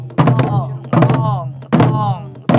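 Four deep, resonant strikes on a Korean buk drum land at an even pace, each met by a voice chanting the drum sound along with it.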